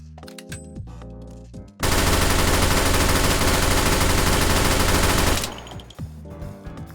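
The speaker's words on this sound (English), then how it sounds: "We have the Bush Ranger Boom. Nah, get the drum mag." Bush Ranger Boom gun with a drum magazine in the VR shooter H3VR, firing one loud unbroken automatic burst of about four seconds after a few scattered sounds, then dying away into a short tail.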